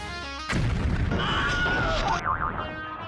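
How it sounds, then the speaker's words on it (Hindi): A sudden loud cartoon-style explosion bursts in, then rumbles on, with a wobbly whistling tone warbling over the noise before it fades. "अब होगा जबरदस्त धमाका।"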